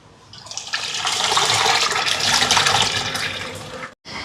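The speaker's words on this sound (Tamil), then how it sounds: "புளியை சேர்ப்போம்." Soaked tamarind water poured into a Sri Lankan fish curry pot, a steady, loud liquid splash and gush running almost continuously before cutting off abruptly near the end.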